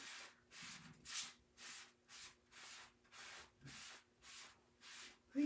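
A sponge wipes chalk paste off a stencil in about ten rhythmic rubbing strokes, each a soft scratchy swish heard up close, with no voices.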